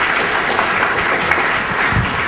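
Steady, dense applause from a conference audience honoring panelists at an ASEAN–Republic of Korea business summit, filling the hall evenly at full volume from start to finish with no talk over it.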